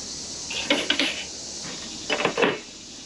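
Two short clusters of metallic clanks and scrapes as a metal pot and colander are set down and moved while preparing to cook crabs, close by in a quiet room.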